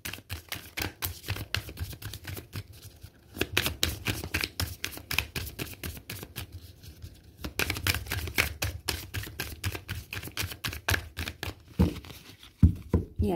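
Tarot cards shuffled and cut by hand, a long run of dense papery riffling and flicking with short pauses, close and moderately loud, ending in a few sharper taps as the deck is cut.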